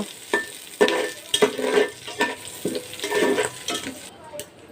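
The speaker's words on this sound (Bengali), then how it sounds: "তেলে আমি কালো সরিষা, জিরা আর শুকনো লঙ্কা দিয়ে দিলাম।" Black mustard seeds, cumin and dried chilli frying in oil in a village-style kitchen, a close crackling sizzle punctuated by repeated scraping stirs and spoon knocks against the pan, no talk.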